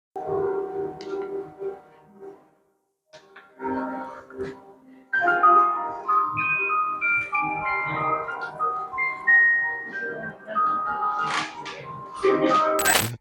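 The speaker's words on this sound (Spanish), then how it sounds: "una máquina de cajas musicales donde escoges qué caja quieres que suene" A tinkling music box melody plays in bright, plucked notes from a coin-style music box machine at a sound museum in Santiago, Chile, pausing briefly before continuing with a busier, higher-pitched passage that grows louder toward the end.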